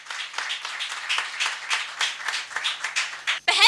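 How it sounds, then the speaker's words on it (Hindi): An audience at a poetry recital stage event claps in loose, uneven bursts for about three seconds, moderately loud, before a voice starts speaking. "एक बार उनके सब के लिए बहुत जोरदार तालियां हो जाएं।"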